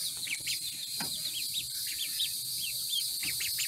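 Faint, high chirps repeat in short bursts from a newly hatched chick in a brooder, with other soft bird calls and a low background hum.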